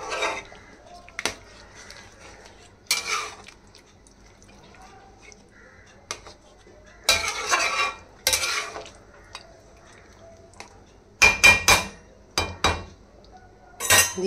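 Utensil scraping and clinking against a pot while gizzard and chicken wing kosha with fried potato is stirred, in irregular bursts separated by quiet gaps, with no talk.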